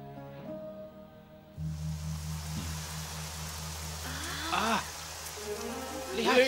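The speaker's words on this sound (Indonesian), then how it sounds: "Lihatlah, ada hujan turun." Cartoon rain falling inside a monastery, a steady soft hiss of drops that begins partway through over a low musical drone, with a few other faint effects on top.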